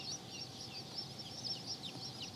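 White Crested Black Polish chickens cluck and cackle softly at close range, a faint, steady stream of fowl chatter with no one talking.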